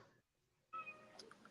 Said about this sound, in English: Which one's this meowing?